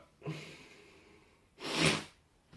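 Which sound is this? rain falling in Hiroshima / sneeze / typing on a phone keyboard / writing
sneeze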